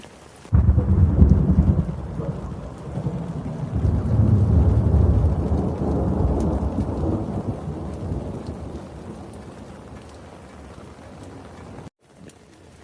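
Heavy rain pounding on an off-grid RV during a thunderstorm, a dense loud downpour with deep rolling thunder that swells early and then eases, cut off abruptly near the end.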